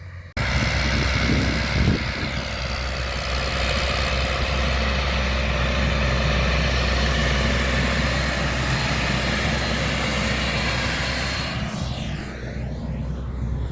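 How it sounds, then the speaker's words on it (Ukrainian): A steady, loud engine drone runs throughout, the low rumble of a tractor pulling a HORSCH corn seeder at a constant pace across a field. "трактор йде по автопілоту, по навігації"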